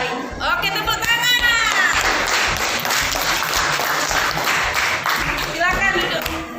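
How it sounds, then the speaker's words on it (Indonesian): Schoolchildren in a classroom clap together in a dense, steady burst of applause that fills several seconds, with young voices calling out over it. "Oke, tepuk tangan."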